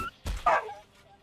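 A dog in the South Park video game The Fractured But Whole gives a short yipping bark followed by a whimpering whine, brief and close in the game audio.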